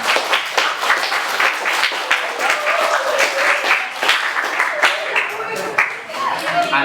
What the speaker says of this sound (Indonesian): Tepuk tangan dong buat kelompok.